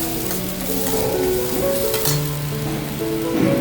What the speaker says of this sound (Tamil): சின்ன வெங்காயத்தை ரொம்ப வதக்க வேணாம், வதக்கிட்டு பெருங்காயத்தூள் போட்டிருக்கோம்